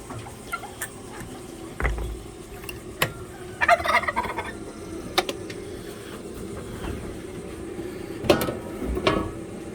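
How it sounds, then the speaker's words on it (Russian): Turkeys gobble in a farmyard with other poultry, several short bursts scattered through the clip at middle distance, with faint clucks and background rustle. "Ага, сейчас тебя индюки забьют."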